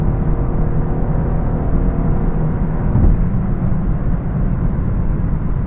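2018 Chevrolet Camaro 1LT RS with a V6 engine cruising a highway at night, a steady low engine and exhaust drone with road rumble, a slight swell near the middle, no talking.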